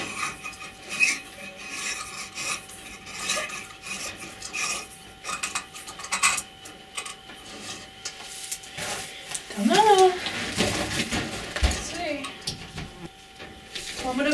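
A light bulb is screwed into a chick brooder lamp, making gritty scraping and grinding with a few squeaky twists up close, while a person talks over it.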